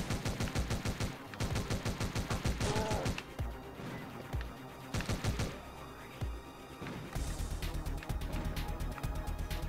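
Video game gunfire from Omega Strike: rapid bursts of small-arms shots mixed with crashing impacts, coming in clustered volleys with short gaps between, loud and busy throughout with no speech.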